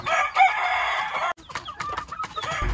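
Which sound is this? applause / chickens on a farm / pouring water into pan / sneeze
chickens on a farm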